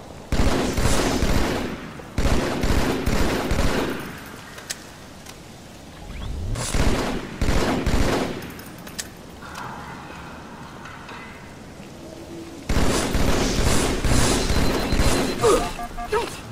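Bursts of rapid automatic gunfire in a shooter video game, loud and close, in several long volleys broken by quieter gaps, with a few single shots in between.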